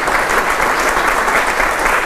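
Audience applause during a radio broadcast, a dense and loud continuous wash of many hands clapping with no talk over it.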